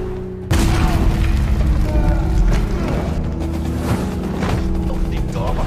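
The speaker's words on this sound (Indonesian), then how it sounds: "langsung melemparkan granat ke arah mereka" A grenade explosion in an action fight scene hits abruptly with a loud broadband boom, then a dense rumbling, crackling wash of debris and mechanical noise sustains for several seconds.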